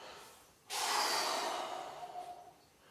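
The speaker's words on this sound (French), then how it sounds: "Et là, je vais me caler juste sur la respiration. Je souffle" Slow, deep exhalation while relaxing on a foam roller during post-workout muscle recovery, a single long breath out that swells suddenly and then fades gradually, close and alone.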